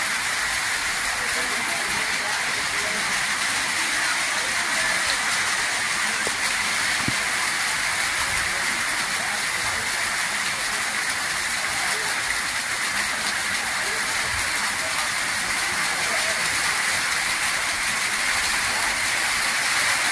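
Rain pours down in a continuous wash of hiss, unbroken and uniform from start to finish.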